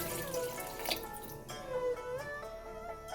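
A small amount of water pours from a vessel into a pot of partly boiled spicy potato curry, a soft trickling splash heard close and quiet with no talk.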